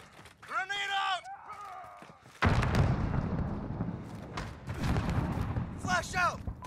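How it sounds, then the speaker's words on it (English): A grenade goes off in the Call of Duty: Modern Warfare multiplayer match as a sudden loud boom that rolls into a broad, rumbling roar lasting several seconds, with short radio-style voice callouts before and after. "Grenade out!"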